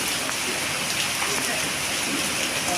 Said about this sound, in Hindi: इस बारिश को तो ना बार बार देखने का मन कर रहा है, फुल बार बार। और बहुत तेज़ हो रही है